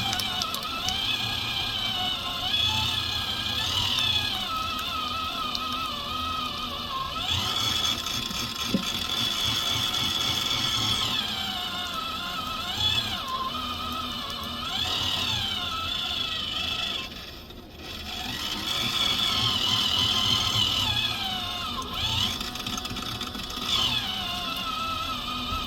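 A small pottery wheel motor runs at full speed, a steady close whirring drone with a faint high whine that holds level for the whole stretch, alone without talk.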